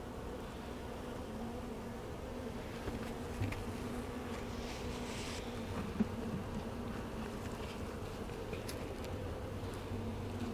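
Honeybees buzz steadily inside a small, weak beehive during a cold-weather inspection, a close, continuous drone with no talking over it.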